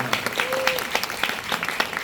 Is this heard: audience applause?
yes